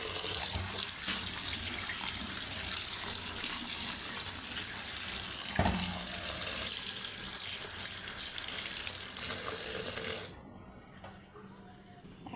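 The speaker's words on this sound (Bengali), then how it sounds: "এই যে আমি আগের থেকে কল ছেড়ে দিচ্ছি এখানে" Water runs steadily from a kitchen tap for about ten seconds, a constant close rushing stream with a brief knock midway, then drops to a quieter trickle.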